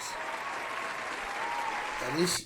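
Scattered hand claps from a small group, steady and moderate in level, with a voice talking over them and a brief louder burst near the end.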